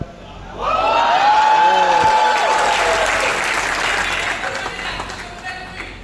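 An audience bursts into loud applause and cheering, a dense wash of clapping that swells quickly, holds steady, then gradually thins out, with a voice speaking over the crowd noise near the start.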